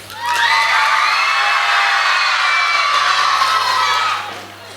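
Loud crowd of children shouting and cheering together at a school annual day celebration, a sustained collective roar that swells, holds for several seconds and then dies away.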